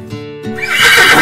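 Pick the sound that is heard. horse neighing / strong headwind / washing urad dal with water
horse neighing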